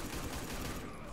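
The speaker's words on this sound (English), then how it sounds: "He keeps getting shot over and over in the face." Rapid gunshots fire in a burst from Deadshot in the fighting game Injustice 2, a dense, loud string of shots with game sound over a short stretch.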